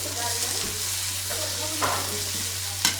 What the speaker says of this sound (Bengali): কড়াইতে সিদ্ধ করে নিছি আর তেলে দিচ্ছি ছোট কড়াইতে